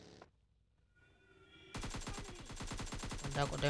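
Gunfire in the battle-royale game PUBG Lite: after a quiet stretch, a rapid burst of repeated shots starts and continues loudly to the end, dense and close.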